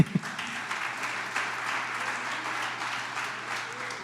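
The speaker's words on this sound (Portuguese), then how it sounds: "Dá um aplauso ao seu amém." Congregation applause during an Assembly of God church service, a steady broad wash of clapping sustained for about four seconds at moderate level, with no voices over it.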